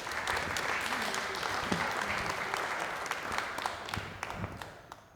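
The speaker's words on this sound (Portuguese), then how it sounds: "dar uma salva de palmas à nossa história da resistência em prol da liberdade no nosso país" Audience applause at a collective health history and memory event, dense steady clapping from a crowd lasting the whole clip and tapering slightly toward the end.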